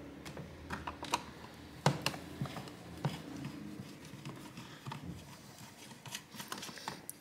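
Small screws are worked loose during a Logitech flight yoke teardown, faint close-up clicks, taps and scraping of plastic and a screwdriver in an irregular patter, with no talking.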